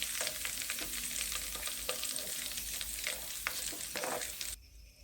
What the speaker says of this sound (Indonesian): Selanjutnya kita goreng juga daun jeruknya